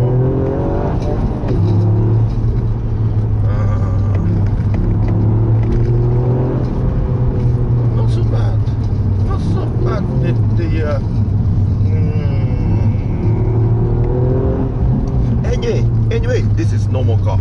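A Toyota GR Yaris engine pulls at gentle partial throttle on a closed rental course with half-wet conditions, a steady low engine hum running throughout while someone talks over it.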